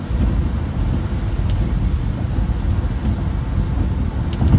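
Steady rain falling outdoors during a storm, with a continuous low rumble of thunder throughout and occasional faint sharper spatters, fairly loud and unbroken with no voices.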